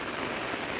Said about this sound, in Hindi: बहुत तगड़ी बारिश पड़ रही है